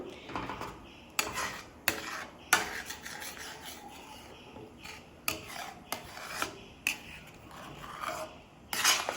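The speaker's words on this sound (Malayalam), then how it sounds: "സൈഡെല്ലാം ഇങ്ങനെ വടിച്ചു കൊടുക്കണേ, അല്ലെങ്കിൽ അത് ഉണങ്ങി പിടിക്കും" A spoon stirs and scrapes thickening milk cake mixture around the sides of a pan over high flame, giving close, uneven rasping strokes with sharper scrapes at irregular intervals.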